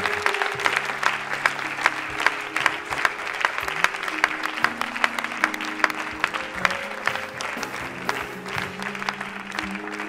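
A church congregation applauds during a French-language worship service, a steady, dense clapping that fills the room for the full stretch alongside low musical tones.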